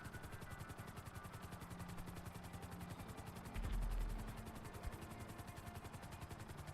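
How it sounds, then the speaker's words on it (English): A video-game helicopter hovers with a fast, steady rotor chop that stays faint and even, broken briefly by a low thump. "we are the chopper in the sky here"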